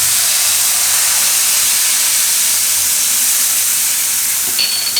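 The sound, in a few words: Kashmiri chili and gravy sizzling in hot oil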